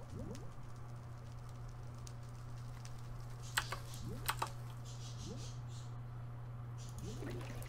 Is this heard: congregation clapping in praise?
no